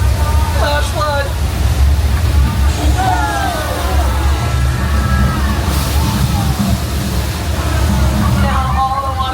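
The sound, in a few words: flash flood water effect on a studio tour set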